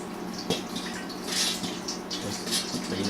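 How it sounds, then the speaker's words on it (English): Hot boiling water pours and splashes over a container being rinsed at a kitchen sink, a close, uneven gushing and spattering that swells and eases in short surges. "Pour some hot boiling water on here."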